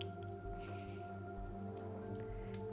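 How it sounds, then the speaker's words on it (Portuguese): Rain falls outside a warm room with a fireplace, a faint, steady patter heard softly behind a low indoor hum with no talking. "Tá chovendo lá fora,"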